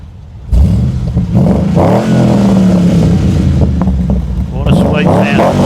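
A Holden VF SS Commodore with a Walkinshaw Performance enhanced 315 kW V8 revs close by: the loud engine bursts in abruptly, sweeps up and down in pitch with a rough, crackling rumble, then revs again near the end.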